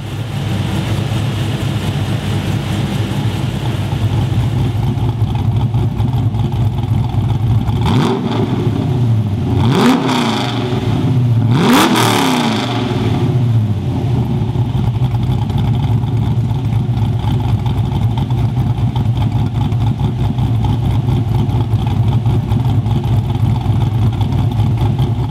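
A car's LS V8 with a performance camshaft idles loudly with a steady lumpy rumble, then revs sharply three times in quick succession before settling back to the same idle.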